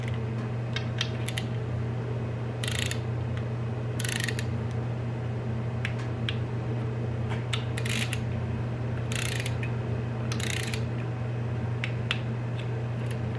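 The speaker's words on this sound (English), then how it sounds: "these are going to be torqued to 106 inch-pounds" Quick bursts of ratcheting clicks from a torque wrench tightening bolts on an LS engine to 106 inch-pounds, repeated in short rhythmic runs over a steady low hum nearby.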